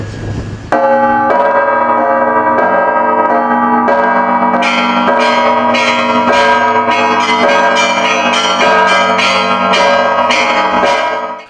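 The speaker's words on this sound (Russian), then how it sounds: "попробовать вывести басовую партию колокольного перезвона" Bass part of a church bell peal at the Cathedral of Saints Peter and Paul in Kazan, with loud, resonant bell strikes ringing in a repeating pattern and long overlapping decays, heard close and alone.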